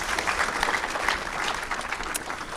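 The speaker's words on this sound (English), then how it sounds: "a round of applause" Dense, steady applause from an audience at a community forum on the Voice to Parliament, a short continuous burst of many hands clapping at moderate loudness.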